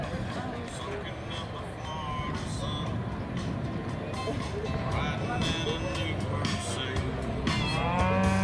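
Cattle moo repeatedly during team sorting at a junior ranch rodeo in an outdoor arena, the calls rising over a busy crowd backdrop while an announcer talks over the loudspeaker.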